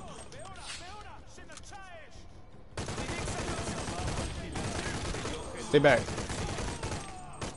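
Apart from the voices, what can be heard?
gunfire in a video game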